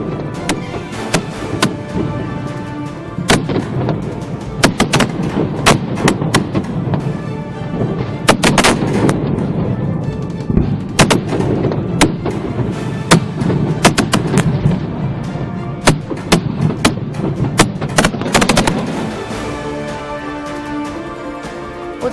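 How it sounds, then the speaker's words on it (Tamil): Diwali fireworks display at night, a dense barrage of loud sharp bangs and crackles bursting continuously over a roaring rumble, with no pauses throughout. "இரவை பகலாக்கிய வானவேடிக்கை நிகழ்வு."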